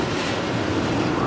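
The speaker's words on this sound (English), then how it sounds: "the train passes through another one of its tunnels, which is equally as loud as the first tunnel" The Magnum XL-200 roller coaster train rumbles through an enclosed tunnel, a loud, steady, broadband roar close by with no pauses.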